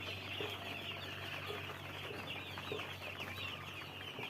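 Steady clucking of a flock of young broiler chickens, continuous and moderately loud against a constant low hum, with occasional louder calls.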